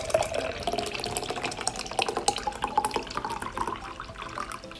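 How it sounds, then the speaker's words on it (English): Cold brew coffee poured into a cup at home makes a steady, trickling liquid sound with small splashes and drips, close by and with nothing else heard. "And I'm gonna pour my cold brew in there."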